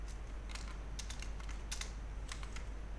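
Computer keyboard typing code, quick irregular clusters of soft key clicks over a low steady hum, close and quiet with no talk.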